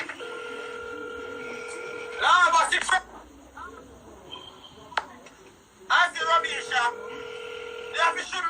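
Telephone keypad dialing tones in a series of steady beeps and bursts, with a pause in between and a second run of tones, as people talk in the background.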